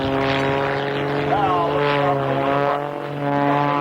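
A propeller aerobatic plane at an air show drones steadily overhead in knife-edge flight, engine tone rising and falling, while someone talks over it.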